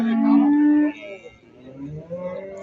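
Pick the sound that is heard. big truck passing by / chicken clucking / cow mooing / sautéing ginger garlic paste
cow mooing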